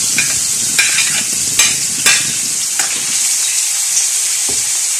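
Bacon sizzling in a hot pan, a loud continuous hiss broken by several sharp scraping stirs of a utensil against the pan, with no talking.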